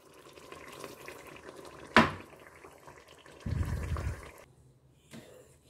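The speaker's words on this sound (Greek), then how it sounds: "Έριξα και νεράκι" Water is poured into a cooking pot of chicken kokkinisto seasoned with cinnamon, salt and black pepper: a sharp brief splash, then a short, dull gushing pour, quiet and close in a home kitchen.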